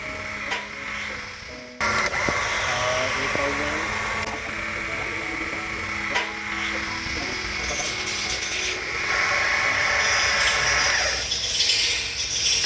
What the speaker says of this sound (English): Both upward and downward movement of car jack is working okay.